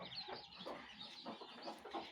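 A hen with her young chicks on a village farm, soft repeated clucks and high peeping chirps overlapping in a quick, uneven stream, close by and fairly quiet.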